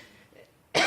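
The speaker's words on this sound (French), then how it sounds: "Ça tousse hein." One short, sharp cough near the end, after a moment of near silence.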